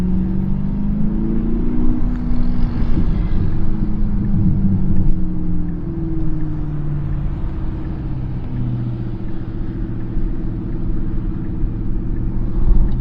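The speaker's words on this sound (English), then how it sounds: "Don't know if you guys can hear" A deep engine exhaust rumble drones close by, rising and falling slightly in pitch as the motor revs, with no talking.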